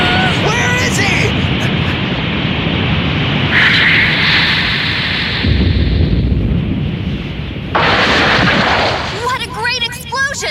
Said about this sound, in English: What a great explosion!